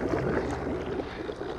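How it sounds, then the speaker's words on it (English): An air pump runs in compost tea, giving a steady rushing, bubbling churn with irregular gurgles close to the microphone and no talk. "All right, and then we turn on the pump."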